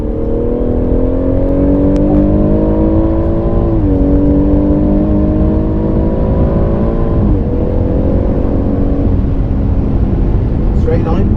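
A car laps the Goodwood circuit, its engine revving and accelerating with rising harmonic pitch that drops at each gear change, loud and close throughout.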